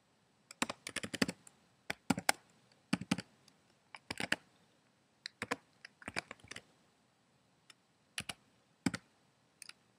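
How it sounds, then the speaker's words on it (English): Close clicks of typing on a computer keyboard come in quick bursts of keystrokes separated by short pauses, with no voice. "Type in whatever you like to read."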